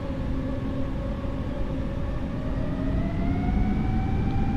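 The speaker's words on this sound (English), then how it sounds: "Oh, they revamped the engine sounds, alright." A simulated airliner engine in a flight simulator game on a Lufthansa flight from Munich to Dubai, with a steady loud roar and a whining tone rising slowly as the engines spool up. No one speaks over it.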